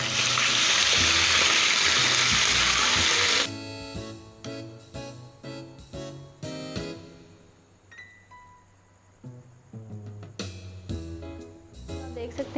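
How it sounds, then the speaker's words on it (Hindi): Minced boneless chicken drops into hot oil, which bursts into a loud hissing rush of sizzle before falling to a quieter, uneven crackle broken by stirring clatter. "ये चिकन हम डाल देंगे ऑयल के अंदर"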